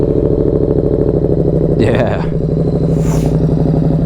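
A 2024 Yamaha MT-07 motorcycle with no exhaust baffle starts and settles into a loud, close, rapid lumpy idle, with brief rev-like bursts and a voice speaking over it.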